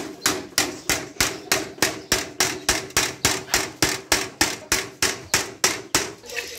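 A hammer drives a nail again and again while a chicken coop is being built, about fifteen sharp, evenly spaced strikes, close and loud, with no voices in between.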